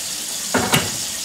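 Water goes into hot water cornbread batter as two quick, close splashy pours in a kitchen, with no talk.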